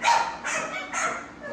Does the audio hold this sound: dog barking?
yes